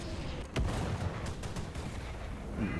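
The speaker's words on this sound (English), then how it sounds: "Did you call artillery on me?" A video game artillery strike lands with a few sharp, distant booms, the clearest near the start and more around the middle. It is fairly faint, over a low rumbling background.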